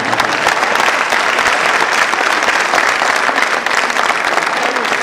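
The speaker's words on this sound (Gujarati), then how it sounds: "ધીરે ધીરે મંદીના ભાવની તાળીઓ પડે" Audience applause from a large crowd seated in Ahmedabad, loud, steady and dense clapping filling the whole stretch without pause.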